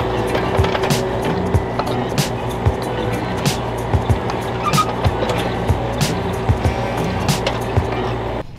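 Rented excavator digging deep farm trenches, a steady engine drone with regular clanking thuds from the tracks and bucket, close and loud.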